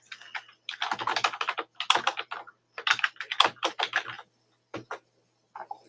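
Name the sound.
typing on a computer keyboard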